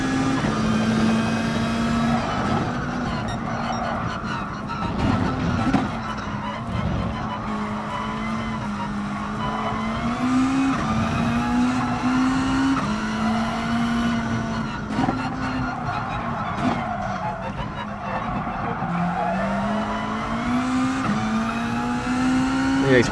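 A Subaru WRX STI races around the Isle of Man circuit in GT Sport, its engine droning and rising through gear changes with tire squeal, loud and continuous throughout.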